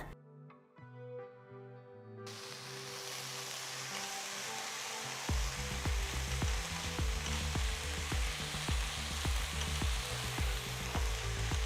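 Steady sizzling and frying of spinach with garlic and onion in a pan, loud and continuous, with stirring noises running underneath after a brief musical intro.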